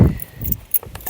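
A bunch of keys jangles briefly nearby in a couple of quick metallic clinking bursts, close and fairly loud against a quiet room.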